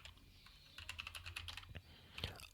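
Soft typing on a computer keyboard during a Python coding lesson, with a quick burst of light key clicks in the middle and a couple of sharper taps near the end. The typing is quiet and close, with no talk.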